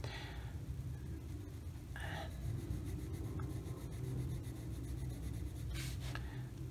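A Derwent Drawing pencil in sepia colours in on paper with a soft, continuous scratchy rub close by, and a few brief brighter scrapes stand out over a low background hum.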